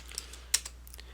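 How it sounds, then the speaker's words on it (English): A few light, quiet keystrokes on a computer keyboard as a terminal command is typed, with one sharper tap in the middle, in a quiet room with a low steady hum. "we can enter inside this file by typing vim file1.txt"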